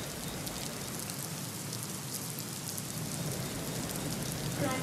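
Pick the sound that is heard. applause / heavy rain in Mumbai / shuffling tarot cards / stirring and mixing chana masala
heavy rain in Mumbai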